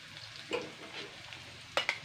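Potatoes frying in a pan, a faint soft sizzle with a couple of brief stirring scrapes and clinks, quiet and close, no talk.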